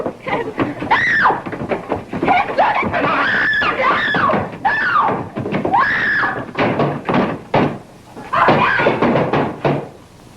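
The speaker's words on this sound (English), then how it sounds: "What was all that screaming I heard?" A woman screams during a fight in a 1936 drama film: repeated shrill, rising cries in bursts, mixed with knocks and thuds from the scuffle, fairly loud and close.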